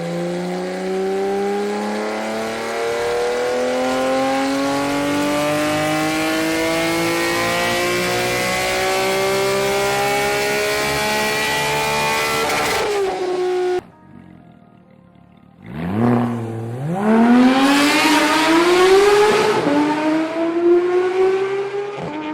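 A Porsche 991 GT3 flat-six engine revs hard above 6,000 RPM. It gives a loud, rising howl that climbs steadily, breaks off sharply, then surges again with a fresh rising wail, close and alone.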